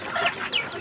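Chickens cluck just after feeding, a couple of short, close calls in quick succession against quiet farmyard background.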